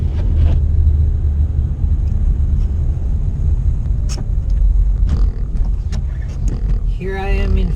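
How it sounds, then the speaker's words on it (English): A manual-transmission car drives in first gear in snow, its engine droning loud and steady as the revs climb while the car barely moves, with a low rumble filling the whole stretch. "Here I am in first gear. Right? Not really going anywhere as the RPMs really climb up."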